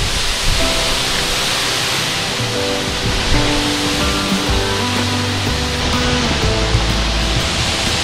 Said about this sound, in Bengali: ছাঙ্গে নদীর জলধারা এসে এখানে এই ঝর্ণা তৈরি করেছে, ছাঙ্গে ঝর্ণা বা ছাঙ্গে ফলস